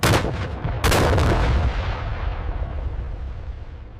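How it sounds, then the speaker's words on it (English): An Abrams tank's 120mm cannon fires, a huge nearby blast with two sharp reports close together, followed by a long rumbling echo that slowly fades. "the loader rapidly inserts the selected round, and the gunner fires"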